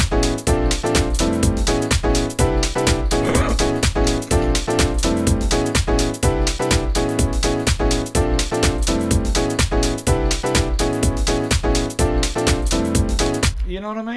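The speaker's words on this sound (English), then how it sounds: "there you go, that's the sound of house piano." House piano chords from the Alchemy synth in Logic Pro X pound in a dense, steady rhythm over a driving beat, bright and loud throughout with no pauses, ending abruptly.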